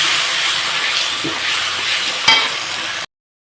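Vegetarian cauliflower curry fries in hot oil in a pan with a steady, loud sizzle and hiss. A brief clink sounds partway through, and the sizzle stops abruptly into silence near the end.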